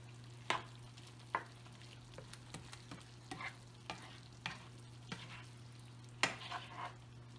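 Flour being stirred into a shrimp and grits sauce in a pan, with a spoon scraping and tapping at irregular intervals over a low steady hum and faint sizzle, close and quiet, no one speaking.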